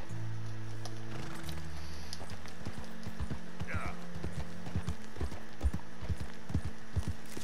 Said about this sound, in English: I'll hitch my horse real quick.